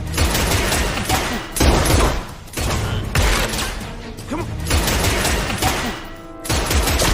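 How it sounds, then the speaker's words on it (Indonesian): Gunfight in the film The Pickup: dense bursts of rapid gunfire in repeated volleys with short gaps, loud and chaotic over a busy background. "terjadilah aksi baku tembak di antara mereka semua"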